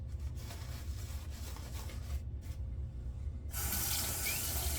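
Tap water runs steadily into a sink for a vintage wet shave, a constant close rushing stream that grows brighter and louder near the end as the flow increases.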